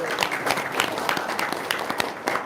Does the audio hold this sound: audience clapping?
yes